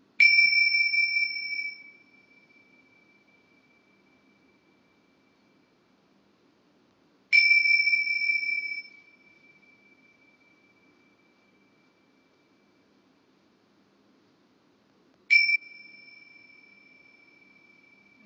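Timer chime for a ten-second answer countdown in an English progression test: three identical electronic two-tone beeps, each ringing out and decaying, spaced about seven to eight seconds apart, loud and clear over near silence.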